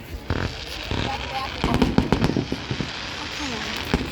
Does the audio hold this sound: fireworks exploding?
yes